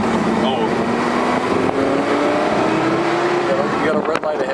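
A Porsche Carrera GT's engine pulls under acceleration in a manual gear, a steady rising drone heard from inside the car, with voices talking over it.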